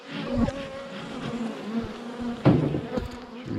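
Honeybees buzzing at a beehive, close and fairly loud, a steady hum with individual bees droning past and swelling briefly near the mic.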